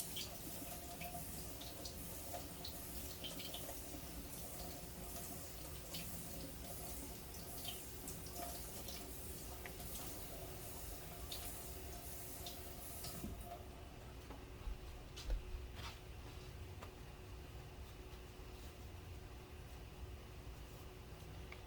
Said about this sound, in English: Gotta really make sure that you wash them off real good.